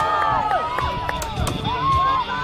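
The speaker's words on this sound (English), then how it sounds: "both these guys got a good chop going" Axes strike wood in a springboard chopping contest at a truck show, with sharp chops landing in a steady rhythm over a cheering crowd and a talking announcer.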